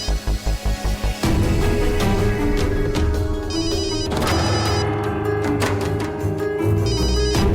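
A telephone rings in a quick rhythmic pattern of short bursts, then dramatic music swells loudly over it and keeps going, with no one picking up.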